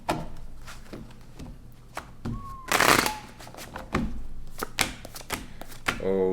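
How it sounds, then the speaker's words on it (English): Tarot cards are shuffled by hand in several quick, riffling bursts with soft taps and slaps between them, close and fairly crisp. "Let's get 3 more shuffles."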